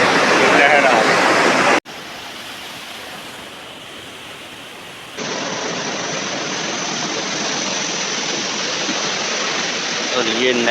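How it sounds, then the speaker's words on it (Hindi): Loud, steady rushing water from the BRB canal in Lahore roars close by, a constant broadband wash that shifts slightly in level partway through. "इस तरफ पानी कैसे शदीद शोर शराबा"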